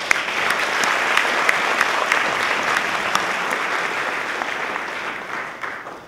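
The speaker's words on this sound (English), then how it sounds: "Let us give everyone here a round of applause." Participants at a peace convention economic forum give a round of applause, a full, even burst of clapping held for several seconds that tapers off at the very end.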